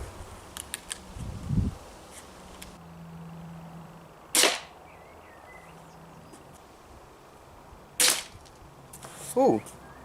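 Several sharp snaps from a HoriZone Redback Deluxe pistol crossbow firing bolts at about 5 yards, each a brief loud crack spaced a few seconds apart, with a thud or two in a quiet outdoor setting.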